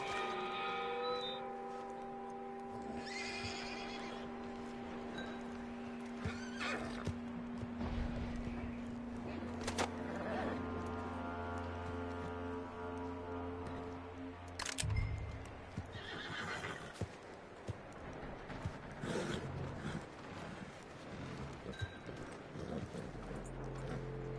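A horse in Red Dead Redemption 2 neighs and whinnies several times amid clip-clopping hooves and game ambience, with voices talking at points across the scene.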